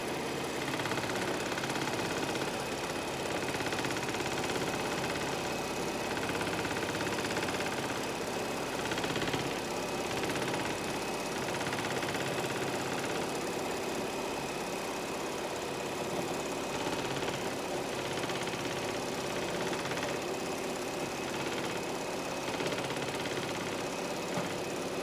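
Bernina 790 sewing machine running continuously while machine quilting, a steady mechanical hum with a faint rapid stitching rhythm, fairly quiet and without talk.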